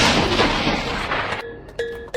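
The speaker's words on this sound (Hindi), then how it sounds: "T-800 ने जॉन की रक्षा की और T-1000 पर शॉटगन से पलटवार किया।" A loud, booming blast of shotgun fire in a movie scene with a harsh burst of noise, then decaying echoes and a couple of sharp metallic clicks.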